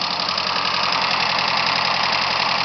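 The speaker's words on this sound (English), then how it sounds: "GTi-R motors are loud motors, so that's, you know, it has solid lifters" Loud, steady engine idle up close from a Nissan 200SX SE-R with a GTi-R engine and solid lifters, with a continuous rapid mechanical ticking running through the rumble.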